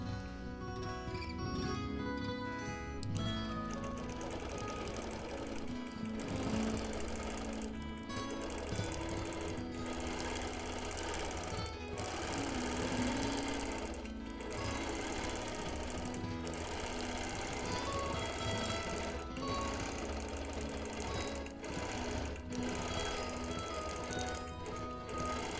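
A sewing machine quilts the corner of a Quilt of Valor, its fast mechanical stitching running in short bursts with brief stops, quiet and close.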